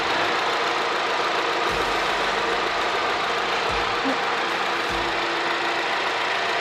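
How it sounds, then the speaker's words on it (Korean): Mini Cooper S 5-door third-generation hatchback engine idling with the hood open, a steady, loud, even mechanical drone with occasional low thumps, no talk. "엔진 소리 일정하고 좋습니다."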